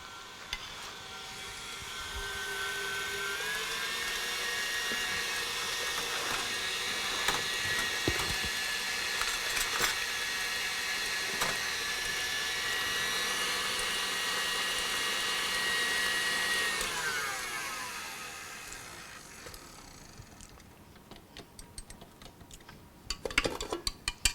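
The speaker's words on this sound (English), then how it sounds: "What I do without a good mixer." An electric mixer whirs steadily while beating a strawberry dessert-square filling, a sustained motor drone with rising and falling pitch and scattered clicks, then winding down and stopping near the end.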